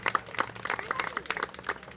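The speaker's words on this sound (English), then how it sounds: "So if you could give the Healy family a round of applause." A crowd at a playground ribbon-cutting celebration claps in a brief, lively burst of applause, dense irregular hand claps close by and fairly loud.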